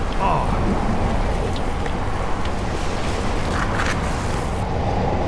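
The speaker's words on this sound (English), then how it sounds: "The rain is making my phone change stuff." Steady rain hisses over a wet street in Tokyo while a bicycle rolls through it, with a dense, even wash of falling water and spray close around the rider the whole time.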